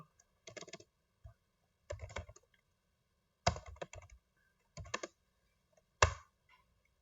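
Keyboard keys tapped in five short bursts entering a command at a PC command prompt, crisp close clicks with brief pauses between bursts and no speech.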